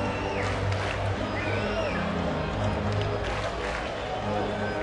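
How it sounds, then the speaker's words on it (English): Lively crowd at a night baseball game in a huge 70,000-seat stadium, a steady distant murmur of chatter and cheering with faint whistles, and a commentator talking over it. "Good crowd here tonight. Very good crowd. Nice and lively."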